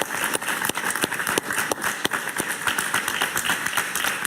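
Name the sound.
studio audience applause for Enrique Salas Romer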